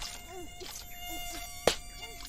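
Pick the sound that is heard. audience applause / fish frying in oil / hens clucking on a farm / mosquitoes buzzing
mosquitoes buzzing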